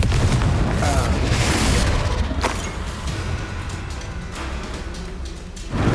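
A Confringo explosion spell in the Hogwarts Legacy video game goes off in a loud, deep boom with a rushing blast that fades into rumbling debris, followed by another burst near the end.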